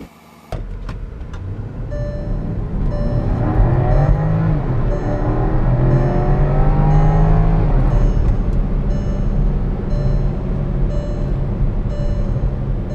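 A Porsche Cayenne drives after new spark plugs and coil packs are fitted, its engine starting with a thump and then a steady, close cabin drone that rises in pitch as it accelerates, with no talk.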